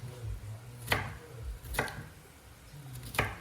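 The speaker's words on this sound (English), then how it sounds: "you just chop it into small pieces, like little cubes of green onion or green peppers" A knife chops green peppers into small cubes on a board, giving three crisp, evenly spaced cuts heard up close against a quiet background.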